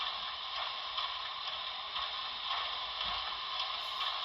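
An HO scale NYC Commodore Vanderbilt Hudson locomotive, a Broadway Limited model with a Paragon4 sound decoder, plays its track sounds as a steady thin hiss with faint, regular ticking underneath.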